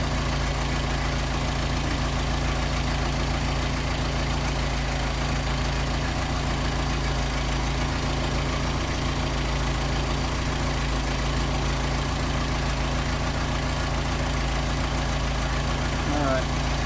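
A Mercedes 190SL engine fitted with Solex 44PHH carburetors idles at raised revs, a steady close drone that stays even and continuous with no break.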